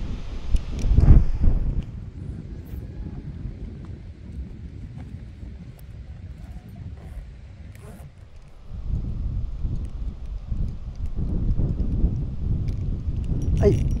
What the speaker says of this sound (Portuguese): Muito vento aqui na serra.